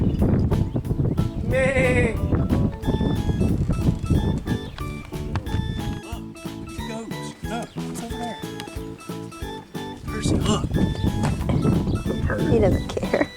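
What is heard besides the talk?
goats bleating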